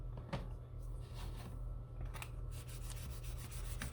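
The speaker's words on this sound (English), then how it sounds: "we're sanding lacquer now, so lacquer gets pretty hard" Hand sanding of hard lacquer paint on an Edsel car body, pressed down firmly, giving a continuous close rasping rub with a few sharper strokes over a steady low hum.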